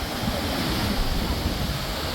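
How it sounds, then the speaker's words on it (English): Ocean waves crashing against the rocky coast at Devil's Tears in Bali, a loud, dense, continuous roar of churning surf and spray, close by with wind buffeting the microphone. "as you can tell that the waves get really bad"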